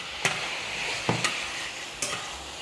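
Frozen homemade stock hits a hot pan where a syrupy reduction is cooking, giving a continuous close sizzle broken by three sharp crackling bursts spaced about a second apart, with no voices.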